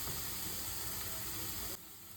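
Mushrooms sautéing in a pan give off a steady, close hiss of frying that runs unbroken for about two seconds, then drops abruptly to a quieter sizzle near the end.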